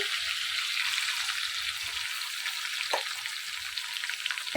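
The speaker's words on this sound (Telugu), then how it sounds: "కొంచెం వేగనివ్వండి" Chopped onions and green chillies fry in hot oil with cumin, giving a steady, close sizzling hiss with a few soft stirring knocks underneath and no voices.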